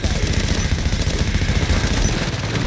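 Steady automatic turret fire in The Division, a continuous dense rattle of rapid shots running throughout at close, loud level with no pauses.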